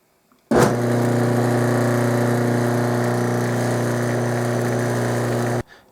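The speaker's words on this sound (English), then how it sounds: "So I'm going to drill the rest of the holes." Power drill boring holes while making a saxophone pad leveling tool, starting abruptly and running at a steady, even whine for about five seconds before cutting off, close and alone.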